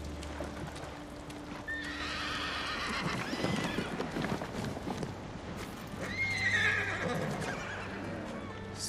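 In the game Ghost of Tsushima, a horse wearing armor neighs twice with clear whinnies over soft hoof clip-clops and a low ambient drone, fairly near.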